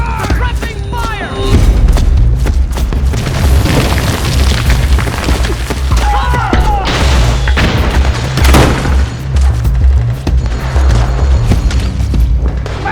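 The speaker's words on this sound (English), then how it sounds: "We got fire! Suppressing fire!" Heavy gunfire and booming explosions fill a battle in the video game Metal Gear Solid 4, loud and continuous, with bursts of shots, deep blasts and shouting soldiers layered throughout.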